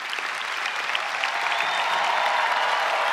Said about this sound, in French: vous pouvez vous applaudir et les applaudir